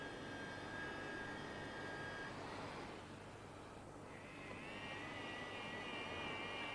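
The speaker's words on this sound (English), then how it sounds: "Surface rubber is removed from the injury area with the use of a rotary gouge." A rotary gouge grinds surface rubber from the injury area of a truck tyre, giving a steady, loud, whining buzz that runs the whole time, with a brief dip in pitch midway and no voices.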